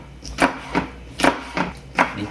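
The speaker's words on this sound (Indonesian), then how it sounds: "Kemudian cabenya ini akan saya iris serong agak besar-besar sedikit" A knife slices chili peppers on a cutting board at an angle into fairly large pieces, making five distinct chopping thuds spaced irregularly, close and clear with no talking.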